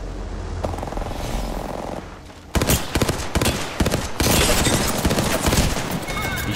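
Rapid bursts of gunfire from Apex Legends erupt loudly after a quieter stretch, dense repeated shots and impacts crowding together in a fierce close-range firefight.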